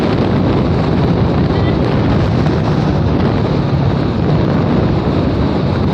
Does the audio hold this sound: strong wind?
yes